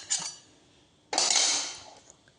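Ingredients tossed into a cooking pot for a dried prawn curry, a short clink followed a second later by a louder clattering splash that fades away.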